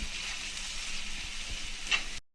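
Spices sizzle steadily in hot oil, a close, continuous hiss with one brief louder crackle near the end.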